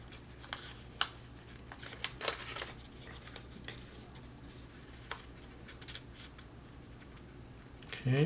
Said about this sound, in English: Fold them into a line.